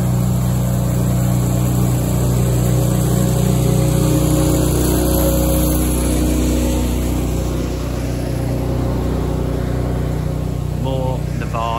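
A truck engine rumbles steadily and loudly outdoors at a live-action roleplay event site, a close, continuous drone that fades slightly as it passes, with a voice briefly heard near the end.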